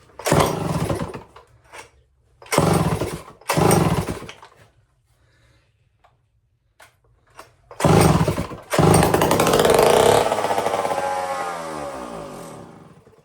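A Homelite Zip chainsaw being revived, with gas poured into the carburetor, roars briefly on several short pull-starts separated by silence. It then catches and runs for a few seconds, loud and close, before winding down.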